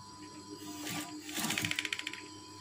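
A sewing machine stitches red wave-style curtain fabric, first a short whirring run, then a rapid, even burst of mechanical needle clicks, close and moderately loud, with a faint background hum.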